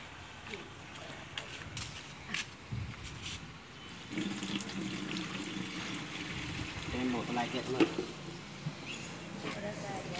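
Water splashing and gurgling steadily into a 20-litre hand-operated spray pump tank, with clanks and handling noises and people talking in the background.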